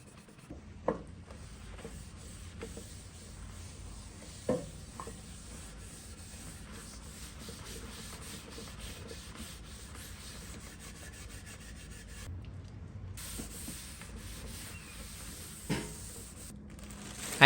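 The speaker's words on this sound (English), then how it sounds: "Then I'll use acetone and a finer steel wool to get the rest of that residue off." Fine steel wool soaked in acetone rubs old finish off a wooden campaign dresser, a soft continuous scratchy scrubbing up close, with a few faint knocks and no talk.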